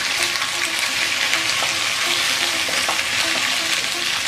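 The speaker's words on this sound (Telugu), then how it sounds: "ఈ మసాలా మొత్తం క్యాప్సికమ్కి పట్టే విధంగా కలుపుకోవాలి." Thin capsicum strips stirred into frying masala in a pan, a constant close sizzle with scraping, stirring scuffs throughout, no voices.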